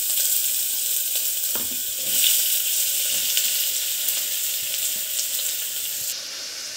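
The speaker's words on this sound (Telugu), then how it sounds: "ఆయిల్ కొంచెం వేసాను కదండి, ఉల్లిపాయ ముక్కలు మాడకుండా తిప్పుకోండి" Finely chopped onions frying in a little oil for native country chicken curry, producing a constant bright sizzle with light stirring clicks and scrapes close by, and no speech.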